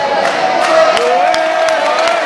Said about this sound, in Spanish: Se levanta la ovación final de la noche.